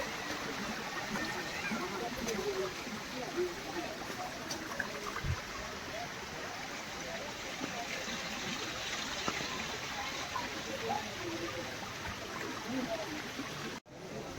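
Water released from far upstream flows steadily at a scenic spot in Chandigarh, a continuous rushing wash with no pauses, while someone talks over it.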